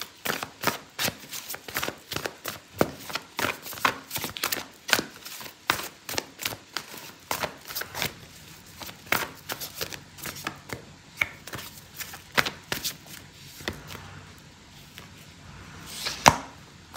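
An oracle card deck is shuffled by hand for a tarot-style reading, giving a long run of crisp, close riffling snaps and slaps in an uneven rhythm, with no one talking.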